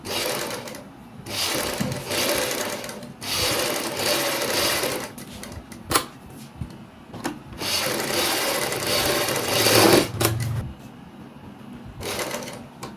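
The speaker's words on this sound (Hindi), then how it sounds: "एक पेंच पे सिलाई लगाने के बाद मैं ये दूसरे पेंच पे सिलाई लगाऊंगा" An electric sewing machine stitches a kurti neck panel backed with buckram: several bursts of rapid, whirring, rattling stitching separated by short pauses and clicks, close and clear, with no talking.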